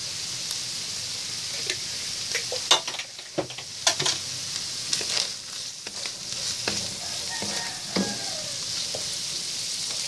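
Olive oil sizzles and crackles in a hot pan while tuna carbonara cooks, with a steady frying hiss broken by sharp pops and a few louder spits, close by and with no talking.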